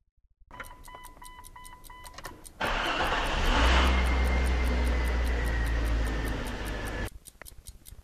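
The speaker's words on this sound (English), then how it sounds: "So now I'll start the engine and run the AC." A car engine cranks and catches, then idles steadily at a loud, close rumble for several seconds before dropping off, with a ticking sound throughout.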